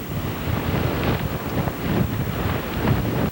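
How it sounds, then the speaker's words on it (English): Hurricane-force wind gusts with heavy rain batter a microphone near Morehead City during Hurricane Bonnie in 1998, a loud, steady roar with rising surges and no voices. "continuing with the wind and these heavy rains easily gusting over hurricane force"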